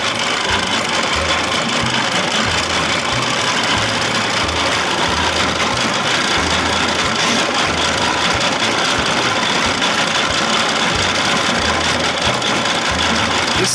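A 1979 Evinrude 55 hp outboard motor runs steadily at idle on its own, a continuous rough mechanical drone with a fast regular knock throughout.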